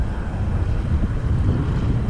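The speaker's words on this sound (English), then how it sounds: "That's all wind." Strong wind buffets a small fishing boat off the Oregon coast, a steady loud rushing roar with gusty low rumble and no voices.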